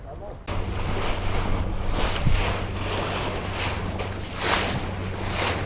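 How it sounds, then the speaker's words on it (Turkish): Wind rushes loudly over open sea, mixed with the hum of a boat engine and splashing waves, continuous throughout, on a barracuda fishing trip toward Kızılada. "Biraz hava rüzgarlı ama o kadar da dalga yok."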